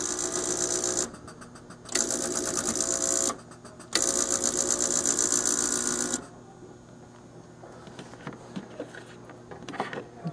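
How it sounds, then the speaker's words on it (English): An electric paint sprayer's pump runs in loud buzzing bursts while struggling to prime, cutting out twice before stopping, then faint clicks and handling noises follow. "I'm trying to get it to prime the pump."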